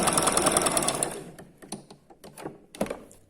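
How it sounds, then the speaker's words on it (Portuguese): A Lanmax overlock sewing machine stitches and trims fabric in a fast, loud buzzing run for about a second, then continues in shorter, quieter bursts of rapid mechanical chatter. "Ele vai costurando e vai cortando, costurando"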